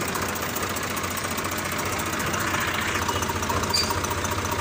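A Swaraj 735 FE tractor engine with water getting into it runs steadily, with a low knocking rumble and a faint mechanical whine rising briefly partway through.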